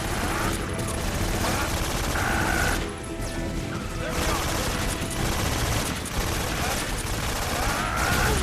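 Bursts of automatic gunfire and crashing impacts fill a Metal Gear Solid 3 firefight, loud and dense, with brief lulls between volleys.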